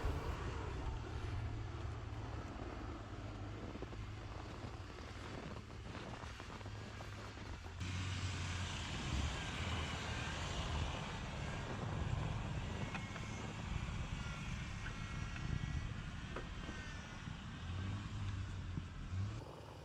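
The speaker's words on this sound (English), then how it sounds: "Explorer spinning all 4 tires, slips little bit to left side and effortlessly climbs the ditch" A Ford Explorer climbing out of a frozen sand ditch with all four tires spinning, a continuous engine drone and tire roar that swells partway through, heard from a moderate distance with wind and no clear talk.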